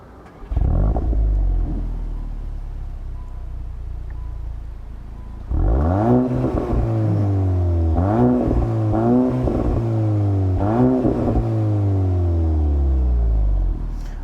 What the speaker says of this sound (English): Let me go ahead and fire up the GTI so you guys can hear what it sounds like real quick.